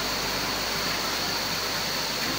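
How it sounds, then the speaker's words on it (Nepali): Water rushing below near Sundarijal dam, a dense, constant roar of flowing water with no break, loud and steady throughout, with no talking. "एउटा तल पानी बग्दै छ"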